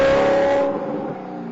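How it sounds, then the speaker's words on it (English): An Alfa Romeo 8C sports car with a loud exhaust howl that holds a strong tone, then fades over about a second and a half. "the 8C sounds like an accident in a fireworks"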